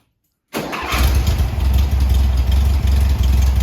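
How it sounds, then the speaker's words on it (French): A 1971 Volkswagen Beetle's air-cooled engine cranks and catches almost immediately after silence, then settles into a loud, close, steady rumbling idle. "Elle va démarrer au quart de tour comme ça, nickel."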